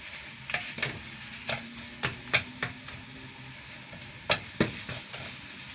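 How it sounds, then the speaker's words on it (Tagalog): Minced meat frying in a pan while being stirred well to break up clumps, a low continuous sizzle punctuated by several sharp scrapes and knocks of the spatula, quiet and without talk. "At kailangan haluin ng mabuti guys para hindi siya yung buo-buo."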